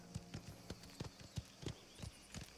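Horse hooves in the video game Mafia The Old Country clop in a steady rhythm of about ten distinct, fairly close strikes, with faint background ambience.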